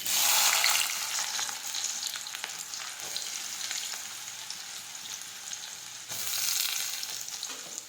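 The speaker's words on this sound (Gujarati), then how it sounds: "રાઈ અને જીરું નાખીશું, સમારેલી મરચી નાખીશું, સમારેલા કાંદા નાખીશું" Mustard seeds, cumin, chopped chili and onion fry in hot oil for brinjal bharta, a close, steady crackling sizzle with louder swells at the start and near the end and soft stirring scrapes.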